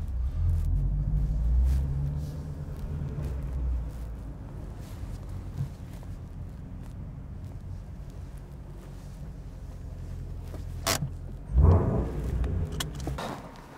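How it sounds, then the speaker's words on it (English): A Shelby GT350 engine rumbles steadily at close range with a low, throaty tone, rising briefly in a short rev blip near the end, with wind noise over the microphone. "Giving them a little rev to let them know I'm here."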